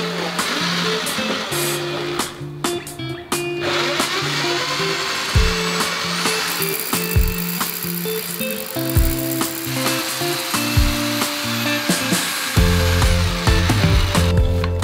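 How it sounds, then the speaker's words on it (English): Hilti core drill boring a pilot hole for a large core, a steady loud whine with grinding, ratcheting changes in pitch and brief stops and restarts throughout, no talk. "Pilot hole drilled."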